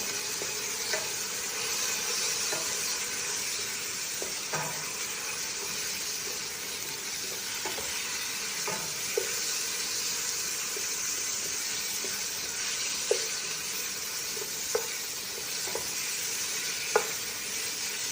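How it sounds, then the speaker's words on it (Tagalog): Chicken and softened onion sizzle steadily in a pot for a white chicken soup, a constant close hiss punctuated by light, scattered taps and scrapes of a spoon as it is stirred. "malambot na yung onion at ko na itong chicken. Mix ko siya."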